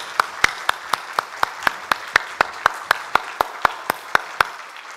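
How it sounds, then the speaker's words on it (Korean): Church congregation clapping at a Sunday joint worship service, a steady rhythmic beat of about four sharp claps per second held together over a soft room wash, fairly close, with no one speaking. "하나님께 영광의 박수 올려드리겠습니다"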